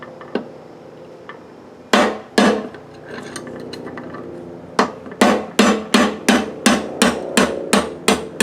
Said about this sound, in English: Drive this pin.